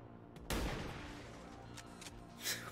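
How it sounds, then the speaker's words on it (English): A sniper rifle shot in the video game XCOM 2 fires as a single loud, sharp blast. A rolling echo and faint distant crackles trail off after it, with no talk. "sniper shot misses on top of it"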